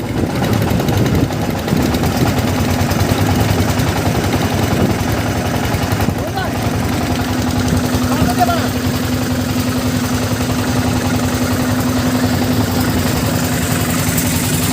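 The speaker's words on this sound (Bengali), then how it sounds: "এই যে ট্রলারগুলো যাইতেছে।" Steady low engine drone of trawler boats passing on a river, a constant hum with a sustained tonal note running throughout, with people talking over it outdoors.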